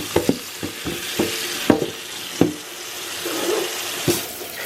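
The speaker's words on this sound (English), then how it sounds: "I'm going to take the potatoes and put them in the strainer and let them rinse." Potatoes being rinsed in a strainer under running water: irregular close knocks and clatter over a steady splashing flow.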